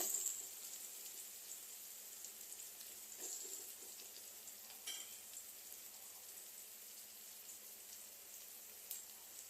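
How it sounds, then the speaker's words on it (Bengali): Onion fries lightly in oil for a fish dish, a faint, soft crackling sizzle with scattered small pops, quiet and steady throughout with no voices. "এটা জাস্ট একটু হালকা ফ্রাই হবে, পুরো লালচে করে না, একটু জাস্ট ফ্রাই।"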